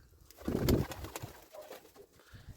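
A pigeon at a village poultry yard gives a low, close coo over a couple of seconds, with faint rustling around it and no talking.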